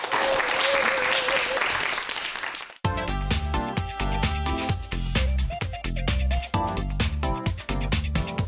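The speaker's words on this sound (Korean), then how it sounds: "여러분 큰 박수로 환영해 주세요." A studio audience on a Korean talk show bursts into loud applause and a few cheers to welcome a guest. After about three seconds the applause gives way to an upbeat, rhythmic music cue.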